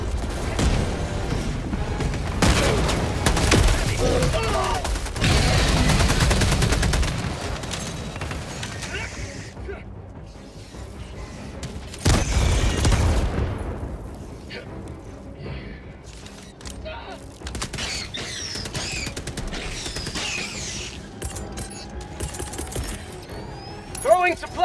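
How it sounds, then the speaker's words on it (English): A Helldivers 2 battle roars with booming grenade explosions and bursts of gunfire, loud and continuous with heavy low rumbles, while a voice occasionally calls out over the chaos. "Throwing grenade!"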